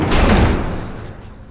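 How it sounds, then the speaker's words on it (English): A heavy door slammed shut and barricaded in the video game The Last of Us, a single loud booming thud fading into a dull rumble. "Barricade the door."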